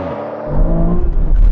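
Aston Martin Valkyrie, Vanquish and V12 Vantage launching together in a drag race, a loud rising engine roar that builds sharply after a brief quieter start and holds strong to the end.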